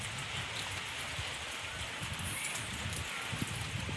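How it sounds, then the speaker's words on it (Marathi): Steady rain falls on open farmland, a soft continuous hiss of drops with faint rustling, close and even throughout with no voices. "आमच्याकडे तर पडतोय."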